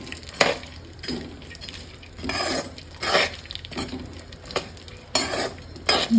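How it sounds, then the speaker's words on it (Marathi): Dry fruits tossed in hot ghee in a pan are stirred with a spoon, giving repeated scraping clatters at a steady pace over a faint sizzle, close and fairly quiet. "तूप थोडं गरम झालं आहे की यात आपण हे सगळे जे आपले ड्रायफ्रूट्स आहेत ते टाकून घेऊया"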